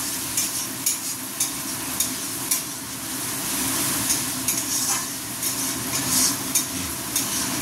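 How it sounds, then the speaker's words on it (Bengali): Fish jhal curry sizzles in a pan with a steady, close frying hiss, while a utensil scrapes and stirs in regular strokes about every half second. "এই যে মাছের ঝালটা করছি"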